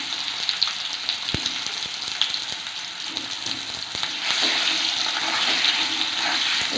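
Potatoes deep-frying in hot oil in a wok, a continuous bubbling sizzle with scattered sharp clicks and taps of a utensil, growing louder and denser in the second half.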